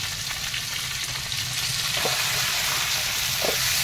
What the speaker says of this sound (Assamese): এইখিনি এতিয়া ধুনীয়াকৈ লৰাই লৰাই ভাজি লৈছো